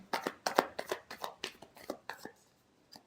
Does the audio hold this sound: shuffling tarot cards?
yes